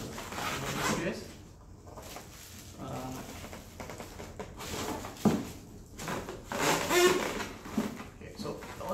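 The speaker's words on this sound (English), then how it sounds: "we'll just unbox this case." A computer case being unboxed from its packaging, with close rustling, scraping and sliding of cardboard and plastic wrap in uneven bursts, plus occasional knocks as the case is handled.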